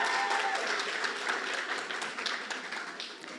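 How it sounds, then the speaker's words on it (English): Final year students at a media exhibition receive applause from the audience, steady clapping that fades slightly toward the end. "can we have a round of applause to all our final year students for making it this far?"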